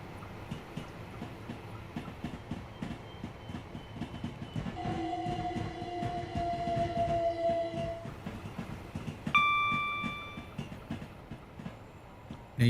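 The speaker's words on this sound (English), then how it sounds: "Now you can hear the overhead singing noise. Does have nice junction noises, I have to give it that." A train in Train Sim World rumbles along over rail joints and junctions with an ongoing clatter. A high, sustained singing tone from the overhead wire rises for a few seconds, and a brief sharp tonal squeal follows later. No voices are heard.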